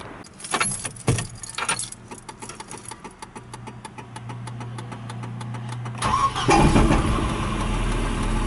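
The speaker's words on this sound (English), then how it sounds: "let's see if she starts." A 33-year-old rusty Volvo 240 starts up: keys jangle first, then the starter motor cranks briefly and the engine catches quickly into a loud, steady idle, heard close by.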